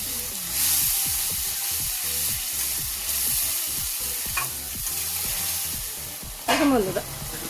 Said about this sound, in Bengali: এই মশলাটা তেলের মধ্যে দিয়ে দিচ্ছি। এবারে মশলাটা ভালো করে নেড়ে চেড়ে ভেজে নেব।